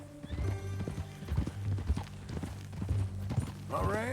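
Horse hooves clip-clopping at a steady walking rhythm in Red Dead Redemption 2, close and clear, with a brief whinny near the end and a faint voice in the background.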